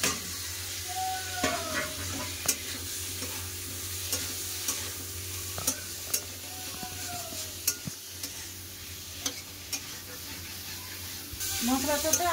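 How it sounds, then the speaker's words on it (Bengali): Potatoes and pointed gourd fry with ground chilli, cumin and turmeric in a pan, giving a soft continuous sizzle punctuated by scattered clicks of a spatula, with a louder crackle near the end. "মশলাটা ভাজা হয়ে গেছে, আলু পটল দিয়ে দেবো"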